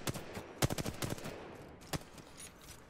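Gunfire on the firing range in the video game Apex Legends: several sharp shots cluster in the first second, and one more lone report lands near the two-second mark, each loud against a faint background.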